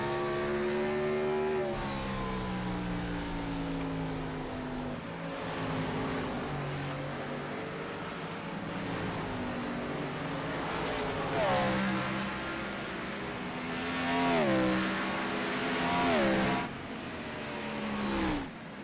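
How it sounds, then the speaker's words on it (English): A race car engine climbs through the revs out of turn 4 at Richmond Raceway, several rising howls in succession with a commentator talking over them. "You can really just hear how smooth the 19 of Zach Passon is on the accelerator on the exit of turn 4"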